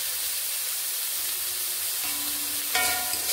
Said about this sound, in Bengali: পেঁয়াজগুলোকে ভেজে নিচ্ছি